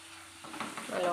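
Crushed ginger and garlic dropped into hot oil in a pan for Kerala-style kappa biryani, a sudden close sizzle that rises within a second and keeps hissing, with stirring.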